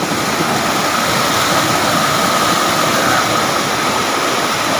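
Water rushing steadily at the foot of a bridge during eel hunting, a loud, unbroken wash of flowing noise from start to finish with no voices.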